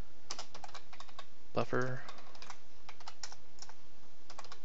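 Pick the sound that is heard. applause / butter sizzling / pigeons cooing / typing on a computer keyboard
typing on a computer keyboard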